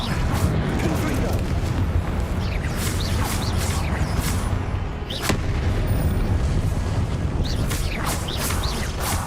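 Repeated Confringo blasting-spell explosions in the Hogwarts Legacy video game, booming bursts scattered through dense, continuous combat noise, with a voice speaking over parts of it.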